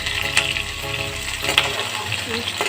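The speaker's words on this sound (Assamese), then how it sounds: "এতিয়া মই ইয়াত কাটি লোৱা পেপচিকামখিনি দি দিছোঁ।" Chopped capsicum sizzling in hot oil in a pan for chilli paneer, a continuous close frying hiss with occasional stirring knocks.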